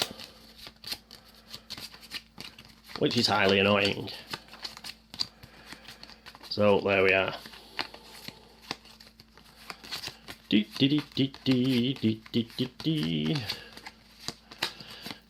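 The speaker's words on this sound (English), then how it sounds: "And we do the old 3-card shuffle" Cards being shuffled in a quick three-card shuffle during an Arkham Horror Third Edition board game, with a dry crisp riffle of clicks running under and between stretches of close conversation.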